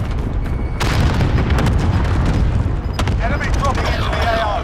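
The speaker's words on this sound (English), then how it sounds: "Throw a nade." Grenade explosions and gunfire in the Call of Duty: Modern Warfare video game, with several loud, sharp booms and cracks over a dense, rumbling battle background.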